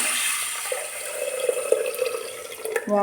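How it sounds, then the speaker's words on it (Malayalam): Water runs and splashes steadily into a pressure cooker holding green gram, a continuous pouring sound with small drips and clinks, fairly close. "ഇനി കുറച്ച് വെള്ളം ഒഴിച്ചു കൊടുക്കാം"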